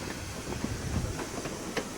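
A steam locomotive hauls a heavy load of gravel along the rails, making a continuous rumbling roar with hissing steam and faint rhythmic wheel clicks, steady and close, with no talking.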